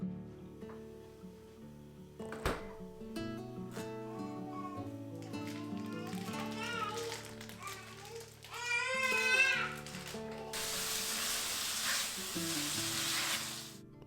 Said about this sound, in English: I cooked up the ground sausage